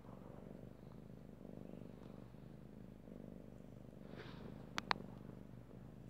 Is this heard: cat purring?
yes